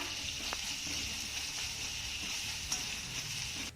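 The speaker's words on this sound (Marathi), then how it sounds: "आता हा कांदा आपण यामध्ये चांगला मिक्स करून घेऊया" Finely chopped onion sizzles and crackles in a hot pan as it is stirred and sautéed, a steady quiet hiss with faint scraping knocks of the spoon, no talk.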